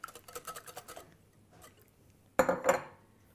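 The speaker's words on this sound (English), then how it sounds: "I've got 200 millilitres of double cream. Stir that in." Double cream being stirred into five lightly beaten eggs in a bowl, giving a quick run of soft clinks, a pause, then a sharper louder clatter of utensil against the dish in a quiet room.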